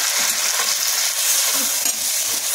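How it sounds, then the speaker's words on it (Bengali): Spices and vegetables for khichuri stirred and frying in a pan, a loud, dense, continuous sizzle with spatula scraping throughout. "দেখো এখন আমরা মশলা দিয়ে দিচ্ছি, সবজিটা যে মশলাটা করেছিলাম"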